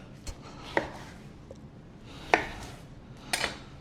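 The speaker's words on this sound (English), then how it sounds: "Give it a nice rough chop." A knife roughly chops peeled grapefruit on a board: four sharp, distinct chops spaced about a second apart, close and fairly quiet, with no talk.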